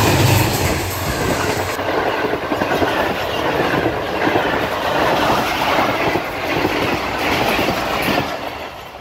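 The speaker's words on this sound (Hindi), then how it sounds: "8 डाउन तेज़गाम एक्सप्रेस गुज़र रही है" The Tezgam Express 8 Down thunders through the abandoned Koh-i-Noor railway station at speed, with loud, continuous rumbling wheels, clickety-clack over the rails and faint squealing close by.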